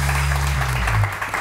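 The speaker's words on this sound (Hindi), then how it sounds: "इनके लिए तालियां तो बजाएं" Studio audience applauding on a Hindi morning talk show set, a dense, steady wash of clapping held at an even level, with a low hum beneath it.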